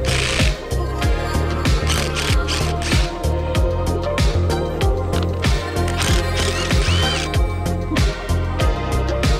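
A ratchet tightens a spring compressor on a car's front suspension coil spring, giving a fast, loud, continuous run of clicking strokes in a steady rhythm throughout.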